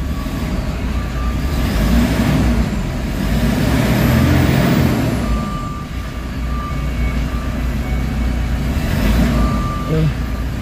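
A Toyota Fortuner engine with a low-power fault that cuts out near 2000 rpm, tied to electrical wiring trouble, revs loudly and close, its steady rumble swelling and easing back over several seconds.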